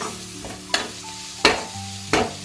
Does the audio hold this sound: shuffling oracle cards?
no